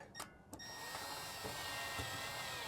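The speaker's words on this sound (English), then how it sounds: "So just screw that in." A power drill whirs steadily as it drives a screw into a passenger-side undercabinet shelf in a Storyteller van, starting with a couple of short bursts and then running continuously, close and fairly quiet.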